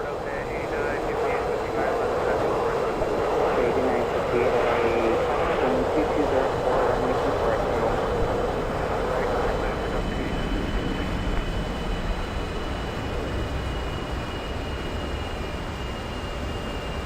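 Steady jet roar of a B-1B bomber on final approach to Nellis AFB, a broad continuous rush that swells and then settles slightly, heard from inside with a voice talking over it throughout.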